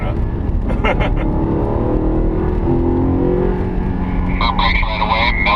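An Audi R8 engine pulling hard around Sonoma Speedway, a loud steady drone that rises in pitch as the car accelerates, with a voice talking over it toward the end.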